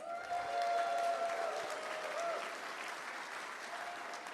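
Supporters at a campaign rally in Markham, Ontario applaud and cheer for a local candidate, a dense, sustained wash of clapping from a large crowd that swells early and then settles, with a whistle-like tone near the start.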